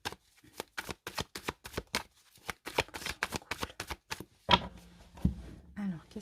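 Tarot cards shuffled up close in a steady, rhythmic series of crisp riffles and slaps, ending with a few heavier thumps as the deck is cut and set down; a voice may be faintly present.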